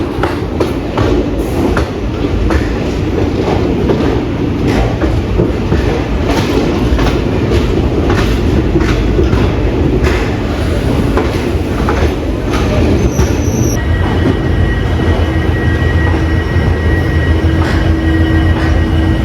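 The Mysuru–Talguppa Express rumbles along from Mysuru, heard from inside a sleeper-class coach: a loud, continuous roar with rhythmic clickety-clack of wheels over rail joints and faint squeals late on, with no voices.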